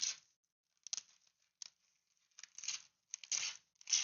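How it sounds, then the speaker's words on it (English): Paper torn in short bursts at a messy desk, with several ragged rips spread over a few seconds and quiet gaps between them, fairly faint and close. "You were ripping the paper?"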